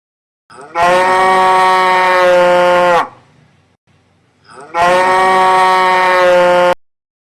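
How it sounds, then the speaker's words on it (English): Two long, loud cow moos, each lasting about two seconds, separated by a brief pause, close and clear with no other sounds. "This is a cow."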